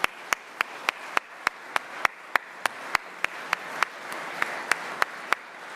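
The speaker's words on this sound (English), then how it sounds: "So to our councillors, give them a round of applause." Steady rhythmic clapping from a small group at a UKIP party conference, sharp regular claps over a soft bed of scattered applause, no talking.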